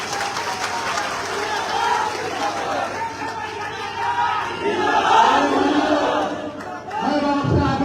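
A political rally crowd in Mirzapur claps and shouts slogans. The noise is a loud, sustained mix of applause, cheering and chanted shouts from a large gathering, swelling midway and continuing to the end.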